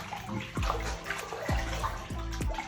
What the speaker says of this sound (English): give that a little rinse, pop on the side and rinse my hair